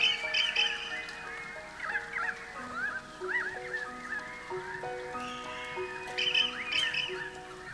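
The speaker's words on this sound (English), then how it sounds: "they do have interesting ringing calls which can be heard here" Currawongs give ringing, bell-like calls in a repeated descending pattern, clear and moderately distant, with several voices overlapping, in Australia.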